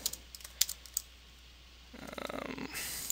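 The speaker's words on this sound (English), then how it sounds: "type in the CAPTCHA code" A few light, quick clicks of typing at a computer keyboard as a CAPTCHA code is entered, faint and close, followed by a denser patter of keystrokes near the end.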